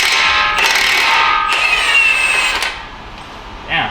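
A Milwaukee power tool rattles and whirs in short bursts while removing axle parts from a 9th-gen Honda Civic, with a mechanical ratcheting buzz that cuts off and restarts, then a brief final burst.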